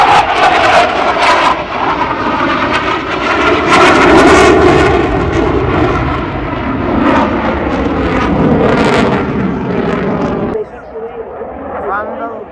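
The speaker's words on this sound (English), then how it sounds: "The next maneuver demonstrates the precise and impressive roll capability of the CF-18." A CF-18 fighter jet performs a hesitation roll at the Gatineau-Ottawa airshow, its engine roar loud and sustained, swelling and fading under continuous announcer commentary over the PA before cutting lower near the end.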